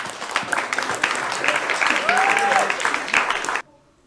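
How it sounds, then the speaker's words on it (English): Crowd at a powerlifting meet applauds a lifter with dense, sustained clapping and scattered cheers, a voice briefly calling out over it, before the applause cuts off abruptly near the end. "So big round of applause for Mark"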